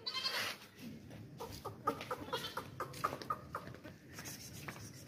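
Makhi Cheeni goats on a farm, bleating and calling repeatedly close by, mixed with clucking fowl and busy animal sounds throughout.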